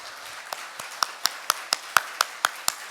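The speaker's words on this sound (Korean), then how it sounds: "박수로 축복해 주시길 바랍니다" Clapping in a church to honour a guest comes as a thin, close rhythm of single sharp claps, roughly one every quarter second over a faint murmur of more distant applause.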